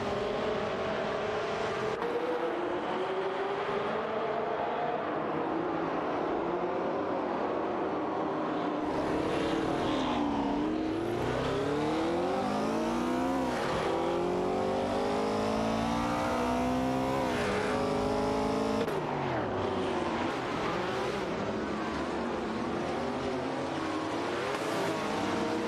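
Race cars including a Ford GT40 MkE and a Porsche 908 Coupe contesting position, a continuous loud engine roar with rising and falling pitch as cars rev, pass and shift gears.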